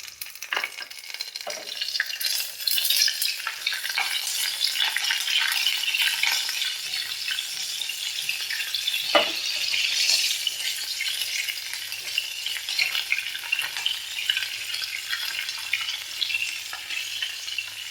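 Cumin, mustard seeds and curry leaves tempering in hot oil for a radish pachadi, a loud continuous crackling sizzle with popping seeds and occasional spoon clinks, heard close and alone.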